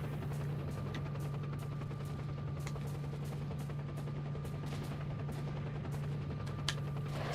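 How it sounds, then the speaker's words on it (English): Gunfire from a firefight with bandits in the video game STALKER, a steady stream of distant rapid shots crackling over a low constant hum. "I'm hearing gunfire out the front"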